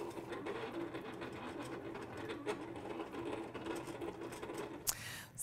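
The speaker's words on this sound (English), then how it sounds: "it's just gonna go ahead and draw the designs on there and transfer that foil" A cutting machine fitted with a Foil Quill attachment draws designs, producing a faint, busy mechanical whir with small clicks and ticks. A brief sharp clack comes near the end.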